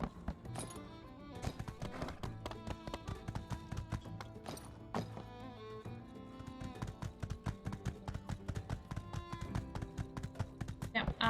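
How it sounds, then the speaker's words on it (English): Horse hooves clattering across rooftops in the farming game My Time at Sandrock, a fast, crisp clip-clop rhythm of sharp taps over game music, fairly close and continuous throughout. "No one mind the horse on the rooftops."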